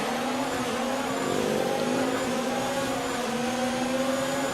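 Formula 1 race cars roaring off the line at a race start in F1 2019, a loud continuous engine drone with rising pitch as the field accelerates together, no voices.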